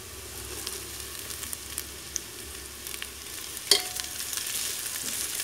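Onions fried to a light brown, with green chillies just added, crackle softly in oil for a chicken biryani. A steady low sizzle runs throughout, with one sharper clack near the end and no voices.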